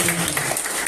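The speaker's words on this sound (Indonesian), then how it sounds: "Mari kita tepuk tangan untuk Antika Sultana." Applause at a primary school graduation and farewell ceremony for sixth-grade pupils, a brief burst of dense clapping from the gathered audience, steady and fairly loud throughout.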